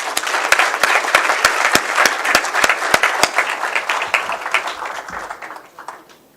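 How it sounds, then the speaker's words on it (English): Audience applause at a celebration event, a dense, steady wash of many hands clapping with a few sharp nearby claps standing out, fading away toward the end. "I'd just like to give you all a round of applause"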